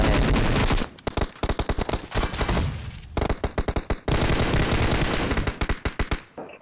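Rapid bursts of automatic gunfire from a mobile shooter game, loud and close, with several long strings of fast shots broken by brief pauses and no talk.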